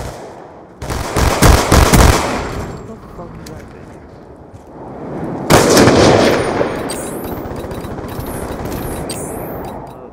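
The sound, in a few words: gunfire in video game Black Ops 2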